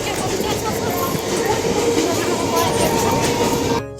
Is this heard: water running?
no